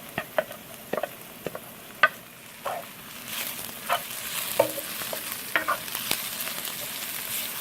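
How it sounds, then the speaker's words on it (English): Whole cardamom, cinnamon, clove and cumin seeds frying in hot oil with onions for a prawn and coconut milk dopiyaza, with a faint sizzle under a run of sharp spoon-against-pan stirring clicks. "Next, I will add cardamom, cinnamon, clove, and cumin seeds."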